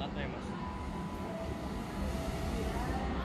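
Steady low rumble of a train hauled by a CC 206 locomotive moving through a busy Jakarta station at night, a continuous rolling drone with faint squeals, heard from nearby without talk.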